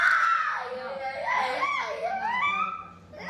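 A child screams and shrieks loudly and close by, a high, strained wail rising and falling for about three seconds, with bits of adult speech nearby.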